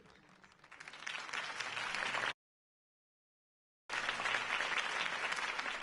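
Crowd applause in Batman: The Telltale Series swells and holds steady, breaks off into a short silence, then resumes at full strength.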